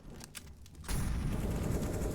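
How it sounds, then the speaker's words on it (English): Rapid SMG and AK rifle gunfire in the video game Counter-Strike: Global Offensive, a quieter stretch giving way to a sustained, dense burst of shots that continues loud to the end. "I'm getting killed by people's SMGs like one tap versus my AK"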